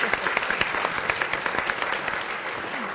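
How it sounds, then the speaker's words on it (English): An audience at a panel event on the future of San Francisco claps in a steady round of applause, dense and even for about three seconds, no voices standing out. "Let's just give a preemptive round of applause."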